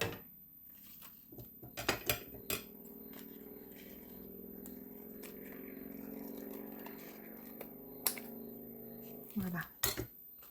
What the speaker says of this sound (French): Je vais finir avec les ciseaux.